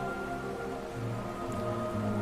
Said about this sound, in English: The rain is so loud that you cannot hear each other.